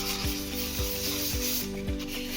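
Fine sandpaper worked by hand over a Stevens Aeromodel G-480 RC airplane kit part, giving light repeated rubbing strokes, about four in quick rhythm, close and soft under a steady hum.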